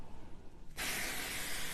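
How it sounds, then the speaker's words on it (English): A sudden loud sizzle bursts out as craft hearts are placed on a hot griddle, then keeps hissing steadily and close. "We might hear a little bit of a sizzle."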